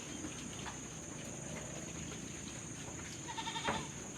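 A goat trying to eat from the pigs' feed on a farm gives a brief, faint bleat near the end over steady background hiss, with no talk.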